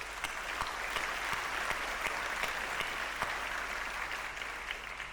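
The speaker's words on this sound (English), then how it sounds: "so let's give them a round of applause." Audience applause at a Microsoft investment announcement event in Malaysia, a continuous, even roar of many hands clapping that holds steady for about five seconds, with no voices on top.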